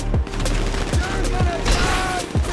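Missile launches and explosive weapon fire in GTA Online, a string of booming blasts at a steady pace over a dense, continuous layer of background game noise.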